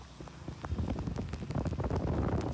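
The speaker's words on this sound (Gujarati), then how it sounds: "તમે વરસાદ જોવો ખાલી આમ" Heavy downpour over flooded Surat streets, with vehicles moving slowly through the water; a dense, loud, steady patter and splash fills the clip without pause.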